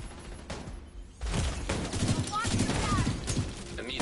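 Sniper rifle fire in The Division 2 shooter game, a burst of sharp gunshots amid ongoing in-game combat noise, with a player talking over it.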